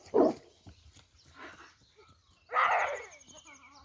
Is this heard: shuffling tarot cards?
no